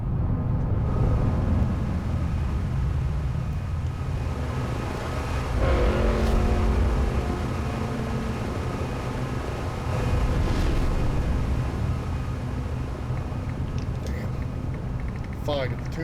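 An approaching Firebird train in the video game Sanabi rumbles in a loud, steady low roar that swells midway, with game music and effects layered on top.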